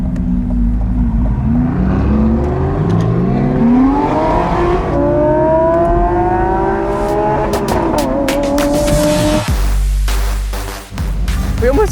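A Lamborghini SVJ race car screams along a track at high speed, its engine loud and close, climbing in pitch through several gears before a roaring pass, with a brief tire squeal near the end.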